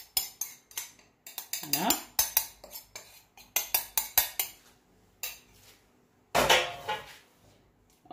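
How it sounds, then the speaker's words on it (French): Grated beef sausage and grated potato being tipped into a bowl and mixed, with rapid clinks and scrapes of a utensil against the dish in uneven bursts, and a brief spoken word near the start. "Ce que je vais faire, c'est de mettre mes saucisses râpées avec les pommes de terre râpées."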